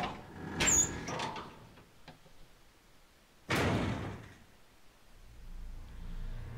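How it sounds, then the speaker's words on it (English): A heavy door in Resident Evil 0 Remastered opens with a sharp creaking clunk, followed a few seconds later by a second loud thud, then low ambient rumble. "I forgot if you open up that door, it spawns him."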